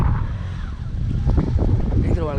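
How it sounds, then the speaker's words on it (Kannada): Strong wind buffets the microphone during a BMW G310GS motorcycle ride to Horsley Hills, a loud continuous roar with gusty low rumble and a voice talking briefly over it. "ಹೆವಿಯಾಗಿ ಗಾಳಿ ಇದೆ"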